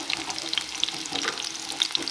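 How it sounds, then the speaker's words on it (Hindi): Chilies and spices fry in a pan with a steady close sizzle and crackle, while a few sharp pops and stirring scrapes come through. "और इन सभी चीज़ों को थोड़ी देर के लिए अच्छे से हम लोग भून लेते हैं।"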